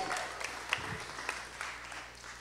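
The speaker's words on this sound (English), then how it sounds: "Give him a round of applause." An audience at a live gaming show claps in a fairly quiet, continuous patter, sounding somewhat distant, with a brief murmur of a voice partway through.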